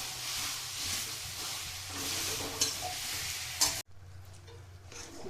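Jaggery and grated coconut stirred together in a hot pan, a steady close scrape and sizzle with a couple of sharper clinks near the end before the sound drops to a quieter simmer.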